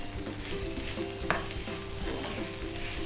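Mashed boiled potato being stirred into fried onions in a hot pan, a steady close sizzle with scraping and stirring clatter, one sharper knock of the utensil partway through.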